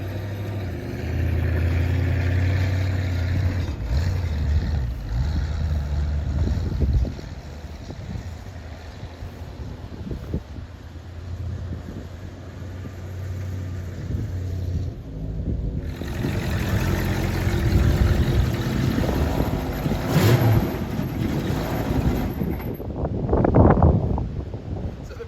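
A 1965 Ford Mustang with weak brakes and a transmission that pops out of gear rumbles and revs through burnouts and donuts, engine roar rising and falling in surges with wind buffeting the microphone, no talking.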